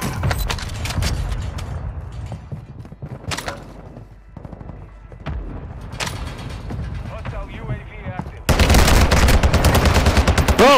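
Gunfire in the battle royale game Warzone 2: scattered shots and short bursts, then a loud sustained volley of rapid fire near the end, with voices talking over it.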